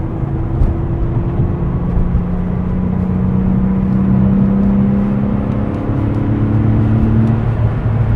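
A 1994 Porsche 911 Carrera 993 engine pulls hard in third gear at high speed, a loud steady droning engine note rising gradually in pitch over constant road and wind rush heard from inside the car.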